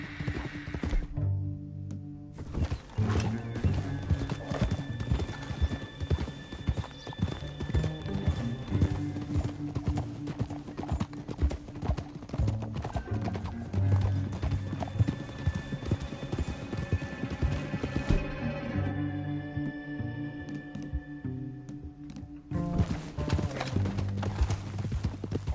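Horse hooves clip-clop steadily in the Red Dead Redemption 2 video game, a close, rhythmic trot running throughout, with a horse's whinny and background music layered underneath.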